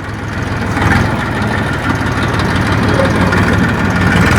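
A tractor engine idles steadily with a low, knocking diesel rumble, close and continuous throughout, out on farmland, with faint voices mixed in beneath the engine noise.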